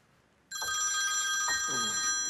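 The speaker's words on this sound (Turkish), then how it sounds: "Sabahtan beri telefonu çalıyor." A telephone rings loudly nearby with a bright, sustained electronic bell tone that starts abruptly after a quiet moment and keeps ringing without talk over it.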